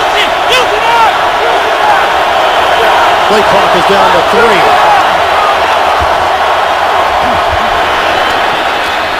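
A packed stadium crowd roars at an NFL game between the Bengals and Colts, a loud, steady wash of cheering under continuous play-by-play commentary.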